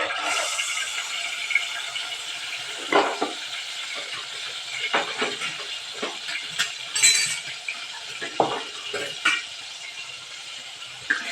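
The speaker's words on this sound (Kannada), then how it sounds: "ಫ್ರೈ ಹಸಿ ವಾಸ್ ಹೋಗೋವರೆಗೂ ಸ್ವಲ್ಪ ಫ್ರೈ ಮಾಡಬೇಕು" Chilli and ginger masala frying in a pan gives a light sizzle broken by scattered clinks and scrapes of stirring, near and moderately loud, with no talk.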